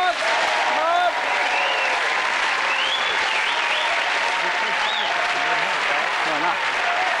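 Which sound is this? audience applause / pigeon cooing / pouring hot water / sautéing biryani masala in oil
audience applause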